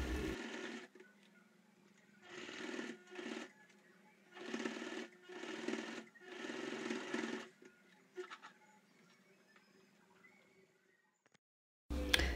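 A sewing machine stitches a plastic toiletry bag in short, close whirring bursts separated by brief pauses, with a quieter stretch before a final burst, and no one speaking.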